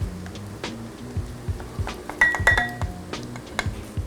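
Vegetable stock, spicy bean paste and tomato paste are stirred together in a bowl, with a steady rhythm of close, bright clinks of utensil against the dish.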